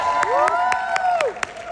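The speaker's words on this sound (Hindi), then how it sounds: "जोरदार तालियां हो" A brief burst of crowd cheering and whoops with scattered claps at a TV show event, lively and fairly loud, lasting under two seconds.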